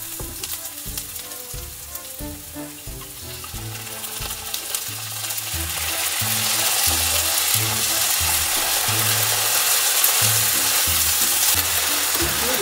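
Tomato goes into a hot pan of golden sautéed onions for eggs in purgatory. The loud, close sizzle builds and holds steady, with music playing underneath and no talking.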